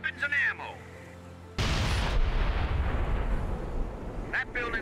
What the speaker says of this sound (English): Let's bombard the area.